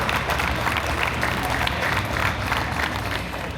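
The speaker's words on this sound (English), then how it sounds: "Let's give a huge round of applause for the heritage that is standing on our screen and stage today." A steady round of applause from an audience at a county bicentennial farm families recognition ceremony; dense, fairly loud clapping carries evenly throughout, with some crowd voices underneath.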